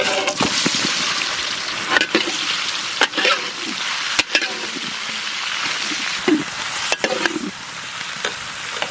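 Mango pieces fry with whole dried red chillies and mustard seed in a spice tempering for chutney, giving a loud, steady sizzle close up, broken by periodic scraping and clacking as a utensil stirs the pan.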